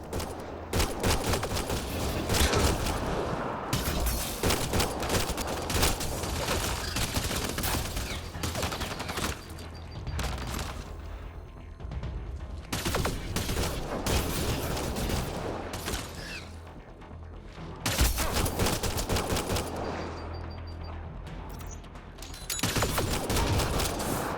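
Sustained gunfire in the sci-fi video game Mass Effect Andromeda, dense bursts of rapid shots and weapon blasts rolling almost without pause, loud and close, with brief lulls between volleys.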